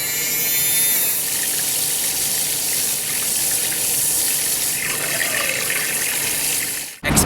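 A handheld milk frother churns 3.5 liters of water in a container, making a loud, steady whirring and swishing that runs without a break before cutting off sharply near the end.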